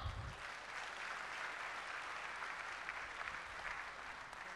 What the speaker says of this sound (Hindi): महागुरु जी के लिए जोरदार तालियां